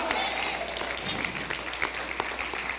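A church congregation claps for the King of Glory, a soft, steady patter of applause with scattered louder claps, somewhat distant and faint.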